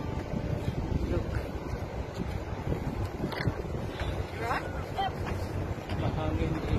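Wind gusts by a bridge in Australia, roaring steadily across the microphone as low buffeting rumble, with a person talking faintly underneath.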